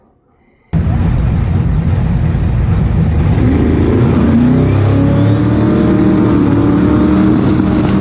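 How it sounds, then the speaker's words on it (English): Race car at Epping, New Hampshire, running after a crank position sensor repair; after a brief quiet moment the engine starts and holds a loud, steady, rough roar close by, with no talk. "So the car is now fixed from a bad crank position sensor, now running."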